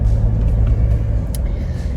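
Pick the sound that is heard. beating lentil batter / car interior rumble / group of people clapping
car interior rumble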